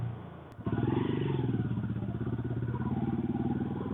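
A motorcycle engine fires up after a brief click and settles into a steady, throaty idle with a rhythmic low thump, close by.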